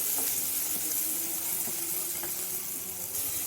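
Chopped onions frying with cumin in oil in a cooker give a steady, close hiss and sizzle, with a few faint clicks and no voices.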